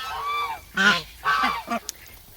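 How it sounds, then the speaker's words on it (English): A baby goose kept among ducklings honks in a few short, bright, harmonic bursts close by, with brief gaps between calls and a quiet background. "the baby goose that's in here is attached to the baby ducks."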